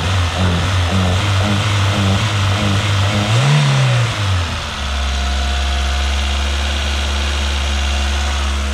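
A car engine with single-point injection runs roughly: an uneven, lumpy idle with a brief rev that dips, then settles into a steady rough drone with a continuous low hum, heard close and without talk.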